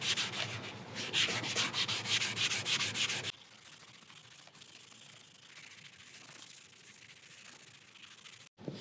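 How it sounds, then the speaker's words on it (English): A spongy sanding pad scrubs a 1967 Jaguar E-Type aluminium engine casting in loud, rhythmic rasping strokes for about three seconds, then stops abruptly, leaving only a quiet room. "I'm going to use this spongy sanding pad at first."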